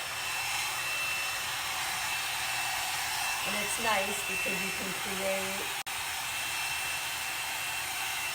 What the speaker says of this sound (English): And then I just take this blow dryer and I work through my hair like this.